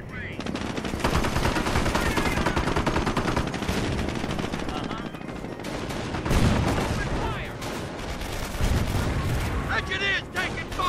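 Dense rapid machine-gun fire and rifle shots rattle through a battle in Company of Heroes, loud and continuous with bursts and a heavier blast midway, while shouted voices call out over the gunfire.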